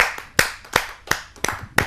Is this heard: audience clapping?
yes